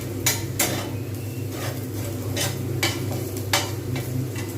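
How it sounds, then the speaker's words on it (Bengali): Onions frying in oil in a pan while a utensil stirs and scrapes them, producing repeated sharp scraping strokes over a steady low sizzle, close by, with no voices. "আমি ভেজেই যাচ্ছি, যতক্ষণ পর্যন্ত না লাল হবে আমি ততক্ষণ পর্যন্ত আমি নাড়তেই থাকবো।"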